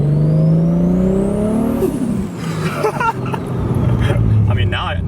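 Chaser car engine spooling while driving, a rising turbo whine climbing over the engine note and then dropping away, followed by lower engine rumble and road noise, loud and close.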